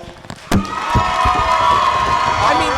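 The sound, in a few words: audience applause and cheering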